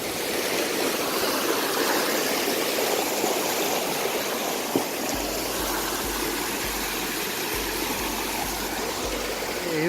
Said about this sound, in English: Here we go, another waterfall.